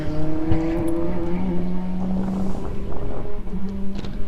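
Formula BOSS race cars roar around the Kirkistown circuit on the first lap approaching the hairpin, a loud sustained engine drone with shifting pitch and heavy wind noise, no voices.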